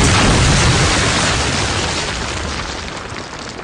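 Grenade blast in Call of Duty Modern Warfare 2, a loud, dense boom that fills the whole sound and slowly decays over a few seconds, with no talk.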